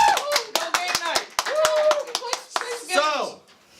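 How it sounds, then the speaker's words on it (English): A small group claps in a quick, rhythmic pattern while children's voices talk and cheer over the clapping. "Round of applause for that!"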